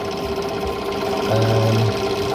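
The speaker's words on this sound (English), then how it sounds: "letting the drill just sort of finds its own way to connect the holes." An electric drill bores stitching holes through a leather knife sheath, a continuous loud whirring motor with a brief heavier grinding surge partway through, no talk.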